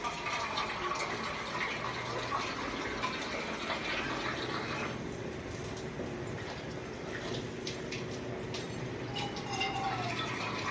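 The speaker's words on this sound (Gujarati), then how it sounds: "અને હજી એમાં નાખીશું એક તપેલી ભરીને પાણી." A pot of water is poured into a khichdi mixture of buttermilk and gram-flour batter cooking in oil, a steady, fairly quiet watery rush with small splashes that runs through the whole clip.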